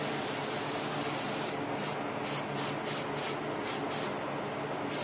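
Off-white paint hisses steadily from a spray gun onto a taxidermy turkey head, close and continuous with brief breaks in the high hiss.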